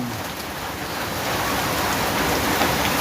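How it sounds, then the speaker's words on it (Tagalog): Heavy typhoon rain pours down without pause, a dense, loud, steady roar of drops hitting surfaces that swells slightly partway through, with no voices. "Wala nang tigil yung ulan, mga kabayan."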